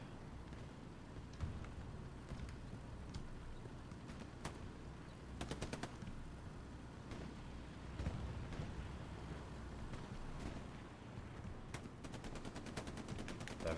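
Machine gun fire during a video game match: rapid rattling bursts, fairly faint and distant, with a few longer strings of quick shots mixed among scattered single pops over a constant low background hum.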